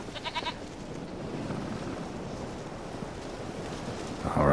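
Goat bleating in the video game The Witcher 3, a short bleat near the start and then a steady bed of ambient game sound, wind-like and rustling, with a brief louder noise at the very end.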